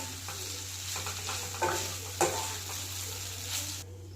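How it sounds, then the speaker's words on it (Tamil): Cooked rice being stirred and tossed with vegetables in a sizzling frying pan to make vegetable fried rice, with steady scraping and light clinks over a continuous fry, no voices. "இப்போது குக் பண்ண ரைஸ் எடுத்திருக்கேன். இந்த வெஜிடபிள்ஸோட நல்லா மிக்ஸ் பண்ணிக்கலாம்."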